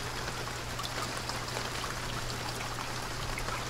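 Storm rain hisses steadily and evenly in the video game Escape The Pacific. A low, constant hum sits beneath the dense, close patter.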